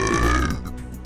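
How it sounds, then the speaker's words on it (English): A computer joke app plays one short, loud, deep belch that gurgles and then trails off. "the app emits random burping noises from time to time without any visible windows or tray icons"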